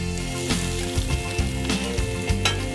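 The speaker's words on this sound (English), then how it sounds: "now we're gonna saute my mushrooms" Mushrooms sizzle steadily in a hot pan, with periodic clatters and scrapes as they are stirred.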